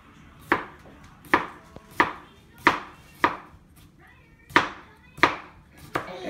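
A knife chops through a cucumber with its skin on, landing seven sharp, evenly spaced cuts on a board at close range, each one a crisp knock followed by a short ring-off, with no talking.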